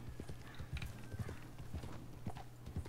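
Horse hooves clip-clop at a steady walking pace on a dirt trail in the Western game Red Dead Redemption 2, a quiet and close rhythmic plodding with faint background ambience.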